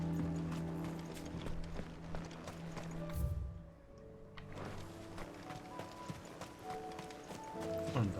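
Horse hooves clip-clop at a steady walking rhythm in Final Fantasy XVI, mixed under game music and ambience with a brief quieter gap midway, no talking.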